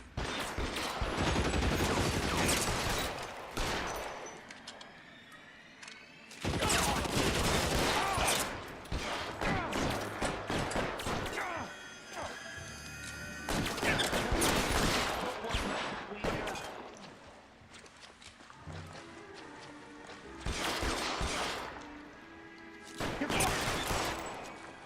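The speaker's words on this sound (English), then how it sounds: "You're shooting at me." Heavy gunfire in the 1940s crime game L.A. Noire comes in repeated loud bursts of overlapping shots, separated by brief lulls, with a voice occasionally heard between volleys.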